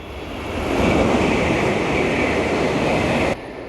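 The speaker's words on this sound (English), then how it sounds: "that train is so fast," A Hello Kitty train in Osaka, Japan rushes past at high speed, a loud sustained roar that swells quickly and then cuts off, with no voices.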